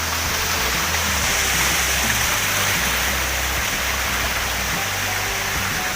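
Steady, dense rush of falling water, broad and unbroken throughout, with a low rumble underneath and no voices.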